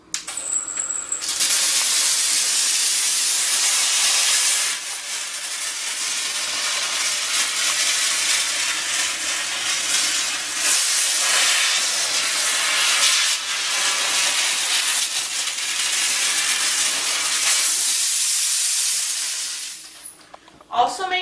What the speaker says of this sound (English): Using a focused nozzle, steam along piping,